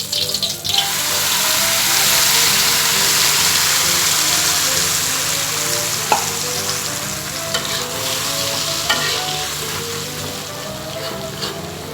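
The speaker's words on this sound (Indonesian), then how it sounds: "Panaskan minyak goreng secukupnya, lalu masukkan bumbu yang sudah di blender tadi." Steady, dense sizzling of blended spice paste for seblak frying in hot oil, loud and close, with occasional stirring scrapes and a low background hum.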